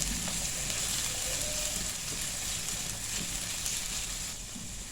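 Onion and garlic frying in a pan, a steady close hiss of sizzling oil that holds level throughout and eases slightly near the end.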